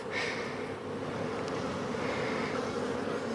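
Honey bees hang around the lugs of a hive frame of foundation, making a steady, close, dense buzzing hum that carries on without a break.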